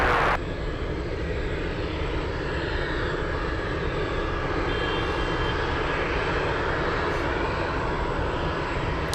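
An Alaska Airlines jet moving on the ground at Anchorage airport produces a broad, steady engine roar that holds loud and even after a brief start, with no voices over it.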